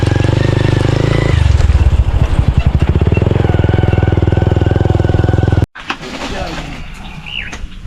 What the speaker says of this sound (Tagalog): Ay, yung grinder pala